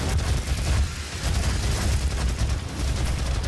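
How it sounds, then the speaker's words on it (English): A chain gun in DOOM (2016) firing in a rapid, continuous stream of heavy booming shots, loud and close for the whole stretch with a brief dip partway through. "Chain gun."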